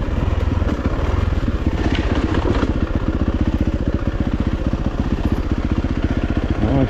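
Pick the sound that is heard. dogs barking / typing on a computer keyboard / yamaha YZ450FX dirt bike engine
yamaha YZ450FX dirt bike engine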